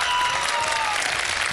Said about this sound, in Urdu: تالیاں بجائیں ان کے لیے.